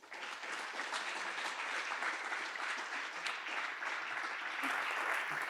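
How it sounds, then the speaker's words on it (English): An audience at a lecture-hall environmental talk claps steadily for a guest speaker, a dense, even wash of applause that holds throughout at moderate distance. "Please give a round of applause for our distinguished guest, Francis Moore Lappé."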